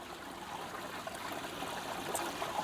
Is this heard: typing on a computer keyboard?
no